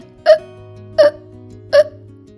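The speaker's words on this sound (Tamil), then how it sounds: "ஒரு வாய் எடுத்து வச்ச உடனே என் விக்கல் வந்துச்சு" Three distinct cartoon hiccups sound at even intervals, each a short loud gulping yelp standing alone over a faint steady background hum.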